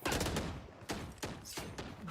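Gunfire in a Valorant college esports match: a quick burst of shots, then two or three separate loud bangs spaced across two seconds, with dense game noise filling the gaps.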